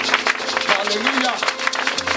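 A church congregation applauds and cheers loudly at a seminary service, dense continuous clapping with voices mixed in throughout.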